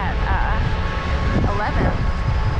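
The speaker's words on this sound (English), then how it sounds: "a lot of wind down here" Strong wind buffeting outdoors on a city sunrise walk near 13th and Sansom, a loud continuous roaring rumble with gusty swells and a faint voice briefly underneath.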